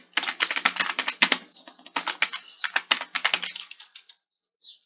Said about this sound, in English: and just type your name.